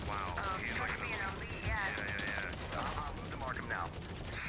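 Gunfire in The Division, a dense, sustained crackle of shots rattling behind someone talking, steady and fairly even throughout.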